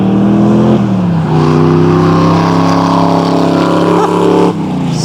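The engine of a 1972 De Tomaso Pantera accelerates with a loud, close, throaty tone that climbs in pitch, dips at one gear change, rises again and eases off near the end.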